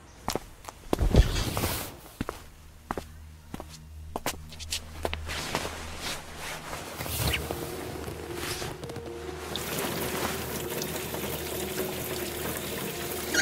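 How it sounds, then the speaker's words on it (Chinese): Water runs from a tap in a hair salon while a customer's hair is washed, a soft steady flow amid scattered footsteps, knocks and handling clatter nearby. "小春哥，快带这位客人去洗一洗"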